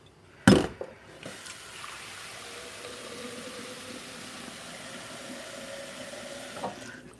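Water running steadily from a kitchen tap while vital wheat gluten is mixed for seitan, a sharp clunk at the start, then an even, moderate stream for several seconds with no talking.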